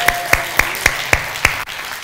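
A church congregation at a Saturday service claps in unison, six loud, evenly spaced hand claps in a steady rhythm, then stops, with no talking over them.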